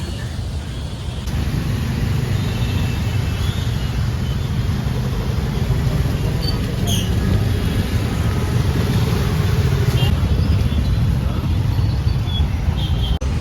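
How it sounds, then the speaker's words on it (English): Steady road traffic hum on a rainy Bangalore street, a continuous loud wash of engines and wet tyre noise with a faint high whine, no clear distinct events standing out. "This part has a traffic now, but I guess this is just normal Bangalore"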